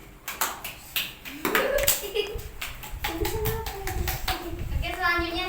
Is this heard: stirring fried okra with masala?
no